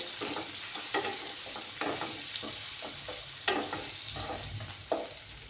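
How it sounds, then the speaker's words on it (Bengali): New potatoes fry in oil with turmeric and salt, a soft continuous sizzle punctuated by repeated spatula scrapes and stirs, fairly quiet and close with no speech. "এই আলুগুলোকেও লাল লাল করে আমি ভেজে নেব"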